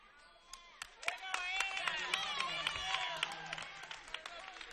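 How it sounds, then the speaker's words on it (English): A crowd at a girls' high school basketball game cheers and claps in a gym, a busy burst of voices and scattered claps rising and holding, with a commentator talking over it. "Listen to the crowd for Anna Barlow."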